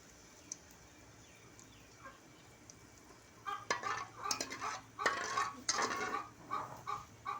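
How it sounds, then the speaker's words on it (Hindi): Green cardamom pods dropped into hot oil in a pan over a medium flame: a quiet start, then a sudden burst of sharp crackling and spitting that keeps pulsing, close and fairly loud, with no talking. "ऑयल हमारा गर्म हो चुका है, इसमें हम छोटी इलायची ऐड करेंगे।"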